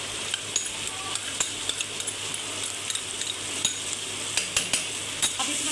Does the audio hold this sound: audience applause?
no